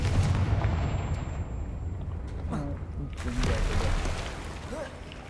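A Confringo fire spell bursts in Hogwarts Legacy, a booming blast amid rumbling game effects and scattered magical crackles, with a voice speaking over it.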